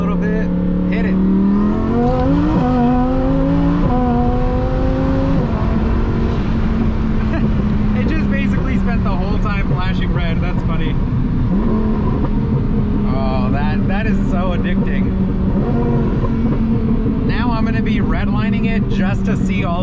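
A twin-turbo Lamborghini Huracán on a city street revs hard and holds a loud, sustained engine roar with rising pitch sweeps, sitting close and continuous while someone talks over it.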